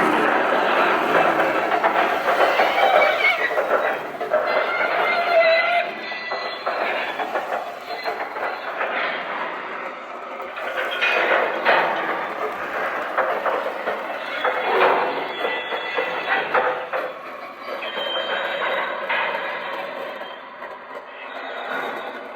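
Small Lionel Nickel Plate Road freight cars pushed by hand along a model track with a continuous rattling clickety-clack, swelling and fading, with occasional wheel squeal.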